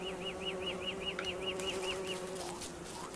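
Angry bee buzzing in the game Don't Starve Together: a steady, close drone with a repeating chirpy warble on top, looping continuously at even volume with no talk.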